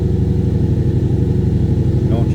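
The supercharged V8 of a 2012 Ford Mustang GT Roushcharged runs at a steady, close idle with an even, deep rumble throughout.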